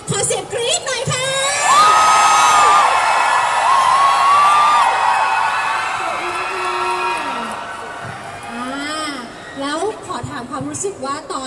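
A crowd of fans welcoming home Miss Universe Thailand screams and cheers loudly with high-pitched shrieks and whoops, fading over several seconds as a voice begins talking over the dying applause.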